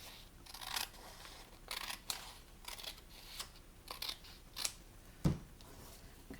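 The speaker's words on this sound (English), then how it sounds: "I'm just going to trim this edge at the same time." Scissors trim the edge of a book page while making a paper pocket for a junk journal. A close series of crisp, uneven snips comes in quick bursts, with one louder knock near the end and no talk.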